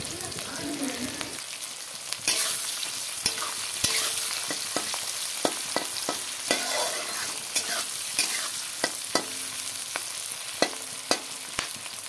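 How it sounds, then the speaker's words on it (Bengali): Chicken pieces and onions sizzle steadily in a hot pan, a constant frying hiss broken by repeated sharp clicks and scrapes of a spatula stirring them, close and alone with no talk. "পেঁয়াজগুলো দেওয়ার পর চিকেনগুলোকে ঢেলে দিয়েছি। চিকেনগুলো কষিয়ে নেই"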